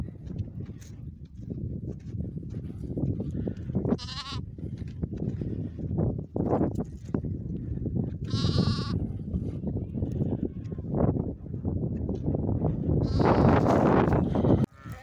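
Lambs and sheep bleat repeatedly on a farm, several loud, wavering cries rising at intervals over a steady background of livestock noise, with no talking.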